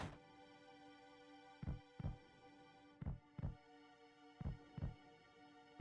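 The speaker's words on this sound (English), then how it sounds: "We're just gonna ignore the heartbeat. Creepy ass heartbeat." A slow, muffled heartbeat from the game Final Fantasy VII, thudding in three distinct double-beat pairs over a steady tonal hum, with no talking.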